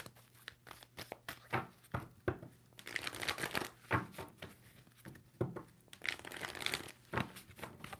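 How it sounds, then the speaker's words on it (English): Tarot cards riffled and shuffled by hand in a quiet room, a run of crisp papery flutters and slaps in irregular bursts, close and fairly soft, with no talking. "Two more shuffles."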